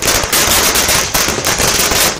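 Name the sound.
fireworks firecrackers at BJP victory celebration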